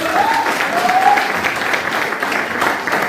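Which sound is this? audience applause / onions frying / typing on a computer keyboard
audience applause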